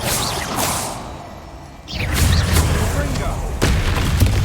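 Confringo fire spell blasts in the video game Hogwarts Legacy, loud booming explosions with fiery whooshes and rumbling impacts in quick succession, under in-game voices.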